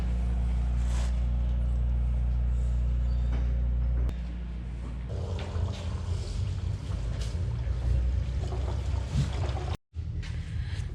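A high-horsepower car with a stock ITR transmission revs hard on a dyno during a gear change: a loud, steady engine drone that shifts in tone partway through, then cuts out briefly near the end before resuming.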